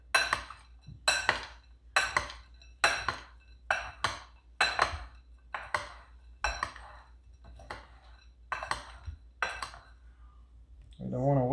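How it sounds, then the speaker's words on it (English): Walnut filling for baklava being stirred in a small container, a run of about a dozen crisp scraping, clinking strokes in steady rhythm, close and fairly quiet, ending with a brief different noise. "I'm going to mix a little bit more to make sure it's done right."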